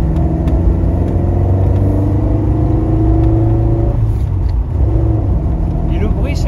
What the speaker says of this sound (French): Et le bruit, je sais pas pourquoi ça me fait penser à un 5 cylindres un petit peu. Ça fait du brap brap un peu grave.